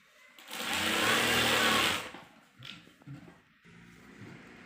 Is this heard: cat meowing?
no